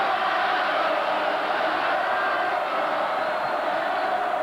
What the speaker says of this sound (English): the crowd is just chanting away